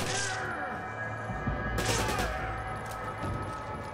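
Rapid bursts of gunfire in Resident Evil 5 on Xbox One, loud shots cracking over game music and effects, with someone talking throughout.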